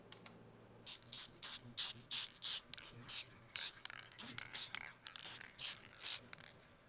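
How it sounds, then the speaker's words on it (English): Short hissing bursts of black aerosol spray paint, a dozen or so puffs in an uneven rhythm, close by with no other sound. "maybe I'll just spray with some black spray paint real quick"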